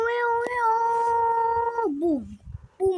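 A cat meows in a video game: one long, drawn-out, wavering meow, fairly loud and close, followed by a short falling tail and a brief extra chirp.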